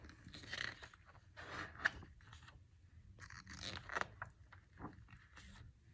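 Crunching and chewing of tacos being eaten by dragons comes as a string of crisp, close bites and crackles in several bursts with quiet pauses between.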